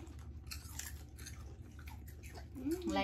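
Children bite into and chew crunchy Japanese snacks up close, making soft crackling crunches, with a brief murmur of voices near the end.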